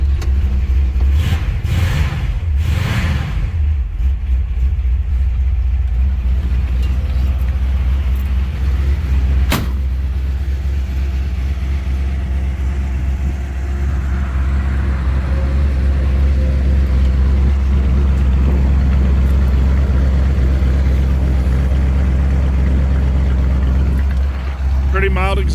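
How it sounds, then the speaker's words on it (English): A 1956 Chevy Bel Air with glass pack mufflers idles with a deep, steady low rumble, heavy and continuous up close, while people talk nearby. "Pretty mild exhaust. It's got glass packs on it."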